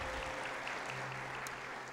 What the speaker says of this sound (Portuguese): Podemos aplaudir a Deus pela palavra de Deus